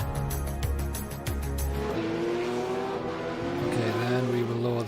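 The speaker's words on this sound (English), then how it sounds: "Okay, engine is loud." Loud racing car engine from the sim game Automobilista, Boxer Cup at Brands Hatch, droning steadily with pitch shifts as gears change, plus brief tire squeal, running continuously across the clip.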